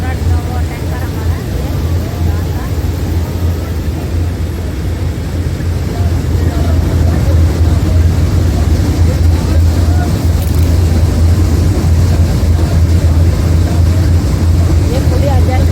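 A paddy combine harvester empties its grain tank into a trolley after cutting a rice field, giving a loud, steady low engine drone with a mechanical rumble and wind buffeting throughout, and someone talking over it.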